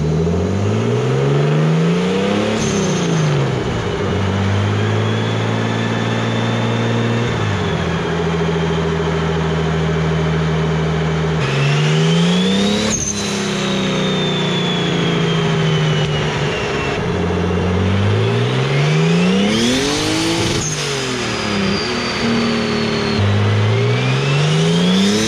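Turbocharged M52 engine in a BMW E36 revving on a dyno, loud and close, with repeated pulls climbing and falling in pitch through the gears, steady whine over the engine roar and no talk.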